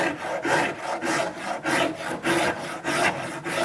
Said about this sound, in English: the saw rasp, it's not getting stuck on the wood, it's just removing anything it encounters